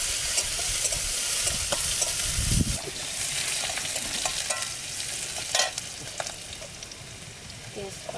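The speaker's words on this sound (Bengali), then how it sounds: "একটু পাঁচ পাঁচফোড়ন দিলাম ওর মধ্যে ওর মধ্যে পেঁয়াজ রসুন দিয়ে দিলাম" Onion and garlic fry in hot oil with panch phoron, giving a continuous bright sizzle up close, with occasional clinks and scrapes from stirring and a low thump near the start.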